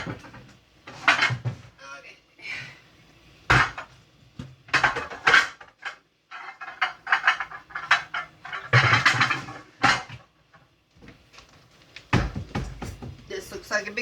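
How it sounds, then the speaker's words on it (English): Metal pots and pans clank and scrape as a pan is pulled out and handled in a home kitchen, several loud close knocks and rattles in irregular bursts with pauses between. "Alright, so then I grab myself a pan."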